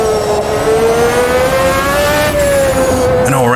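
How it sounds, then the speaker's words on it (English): An F1 race car in Automobilista 2, a Brazilian Racing Legends era machine, screaming loud and close as the engine note holds high and steps through a quick downshift near the end, with no talking. "Makes it a little extra challenging, but fun too, to fly through the gears on the downshifts"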